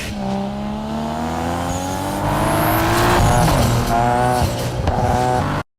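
A Nissan GT-R, black Nismo and stock V-Spec styling, revving hard toward redline in a film street race, a loud continuous engine note with rising harmonics, tire squeal and passing cars over a steady roar.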